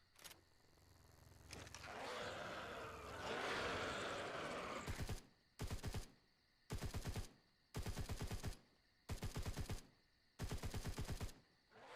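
Automatic weapon fire in a video game as ammo is dumped, several loud rapid bursts separated by short pauses, following a rumbling stretch of noise.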